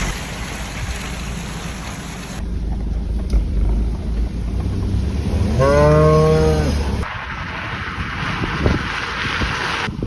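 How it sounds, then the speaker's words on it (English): A cow lets out a single loud, drawn-out moo close by, amid wind noise and rushing water beside flowing rivers in rainy Lesotho countryside. "Cow's not impressed, Kleski."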